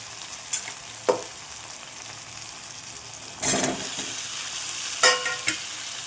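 Potatoes with turmeric, salt and a little sugar sizzle softly in a hot pan. A spatula scrapes and stirs them in a few distinct strokes over a low, continuous frying hiss.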